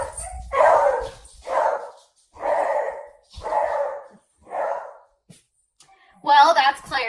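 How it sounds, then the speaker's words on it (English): A beagle barks in a steady series of five or six loud, close yelps spaced about a second apart, followed by a higher, rougher burst at the end; no speech over it. "So just in case you're curious, he's a beagle."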